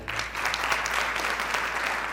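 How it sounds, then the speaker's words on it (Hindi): Audience applause at a commerce festival in Ballia: a dense, steady burst of clapping from a crowd, loud and continuous for a couple of seconds. "मेरी फैमिली के लिए, पेरेंट्स के लिए एक जोरदार तालियां हो जाए"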